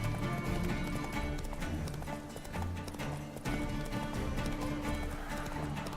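Hooves of Roach, the horse in The Witcher 3, clip-clop at a steady galloping rhythm, loud and close, running without pause under in-game music and ambience.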